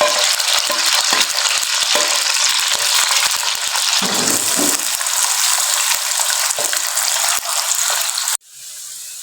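Loud, continuous sizzling of a finely chopped medium onion frying in hot oil until light brown, with stirring scrapes, ending abruptly in a quieter hiss.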